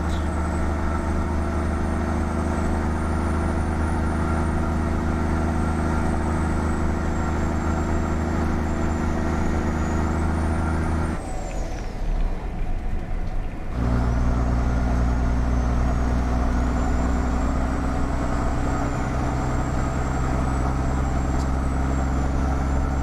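Custom Peterbilt 389 truck pulling a Lode King flatbed through Montana in a driving game, loud steady diesel engine drone with a brief drop in pitch and level, as if shifting, before resuming.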